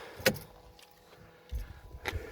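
A parked Toyota Carina is locked in the rain, with a few faint, brief jangles and clicks of keys and a soft thud near the car, separated by quiet gaps.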